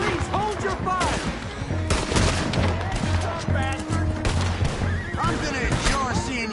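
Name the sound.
gunfire in Red Dead Redemption 2 video game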